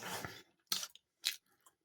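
Someone bites into garlic and herb pork pie pastry, with two or three short crunchy chewing bursts close to the mic, separated by quiet pauses.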